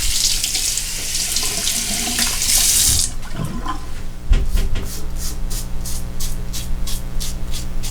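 Tap water runs steadily and loudly into a sink during a wet shave with a safety razor and Arko shaving soap stick, then the flow stops and water drips and splashes faintly in a quieter run.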